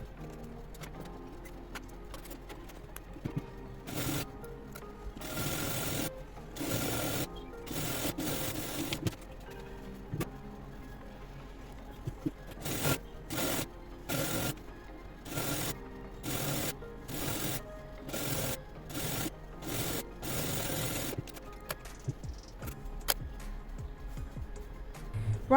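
Sewing machine stitching gathered dress fabric, heard as repeated short bursts of rapid mechanical whirring separated by pauses, moderately quiet and close, with no talking.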